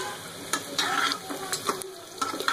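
Onions and garam masala frying in mustard oil, a steady close sizzle with intermittent stirring scrapes and a few utensil clinks throughout.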